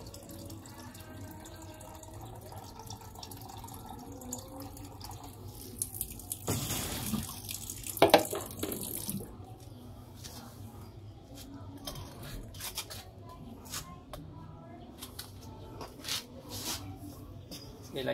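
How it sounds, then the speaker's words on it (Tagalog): Tap water from a faucet pours into a Sharp Giga Wash washing machine being tested for a drain leak, a steady splashing stream with a louder burst of rushing water midway, then quieter trickling and drips. "Ilagyan na lang talaga natin ng tubig galing sa gripo para mas mabilis."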